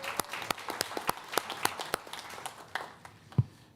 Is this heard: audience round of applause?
yes